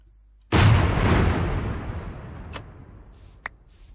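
A ceremonial cannon fires in the Minecraft video game during a city-pillar shrine celebration: one loud, sudden boom that rolls off over a few seconds, followed by a couple of faint clicks and a small pop.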